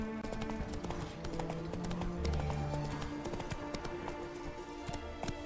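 Roach, a horse in The Witcher 3: Wild Hunt, gallops with a steady, loud clip-clop of hooves over game music, with a brief whinny and faint speech mixed in.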